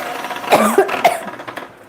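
A woman coughs from chili fumes in a home kitchen, a few close, harsh bursts in quick succession, alone.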